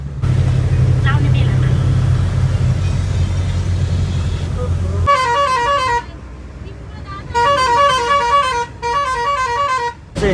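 A bus speeds along a road on a trip from India to Nepal, its low engine rumble giving way to long, repeated musical horn blasts that sound loud and close.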